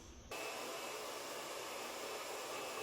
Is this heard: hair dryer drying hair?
yes